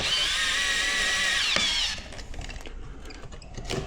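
A power driver runs a whining, high-pitched spin for about two seconds while tightening wall anchors for a TV mount, then stops, leaving faint handling clicks and knocks.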